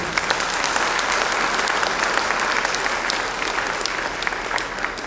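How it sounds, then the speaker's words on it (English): Audience applause at a disability association memorial award ceremony, dense and sustained clapping from a large crowd, loud and even throughout with no voices over it. "give a big round of applause on my behalf"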